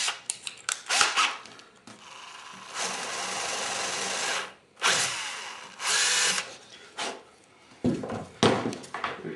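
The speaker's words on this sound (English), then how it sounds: "now so we drill a pilot hole" A power drill with a big bit bores a pilot hole through a Picasso fin foot pocket during assembly of Fisher fins, whining in several close bursts that start and stop with short pauses between them.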